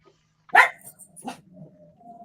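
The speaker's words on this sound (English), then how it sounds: "I'll mute if they bark again." Pet dogs indoors give one sharp, loud bark followed by a softer second bark and low whimpering, close by in a quiet room.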